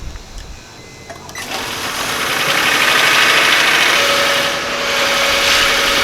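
A 2000 Honda Insight engine idles steadily in a barn, a continuous close mid-pitched hum that swells slightly as the idle rises, with no talking over it.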